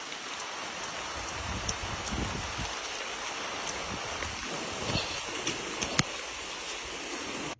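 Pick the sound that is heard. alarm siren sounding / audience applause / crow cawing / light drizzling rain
light drizzling rain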